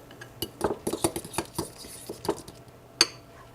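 A utensil scrapes and clinks against a pan while spaghetti meat sauce with parsley and chives is mixed, with irregular close knocks and scrapes over a few seconds and one sharp clank near the end.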